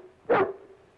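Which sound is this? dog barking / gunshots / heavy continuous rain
dog barking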